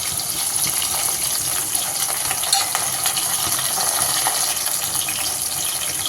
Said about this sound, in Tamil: பூண்டு சின்ன வெங்காயம் சேர்த்துட்டு நல்லா ஒன்றரை வந்து நல்லா வதக்கிக்கலாம்